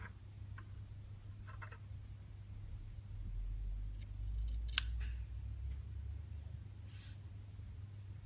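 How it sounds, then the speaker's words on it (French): Scissors snip through ribbons cut to length for a bracelet, a few brief, faint cuts spaced apart over a quiet low hum. "je vais couper mes rubans à 17 cm 5 pour avoir une longueur correcte"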